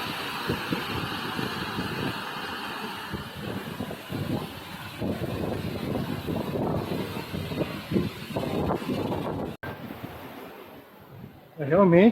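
A full waterfall at high volume sends a steady broad rush of water under gusty wind buffeting the microphone, heard from some distance during a dirt-road ride on a Royal Enfield Himalayan motorcycle.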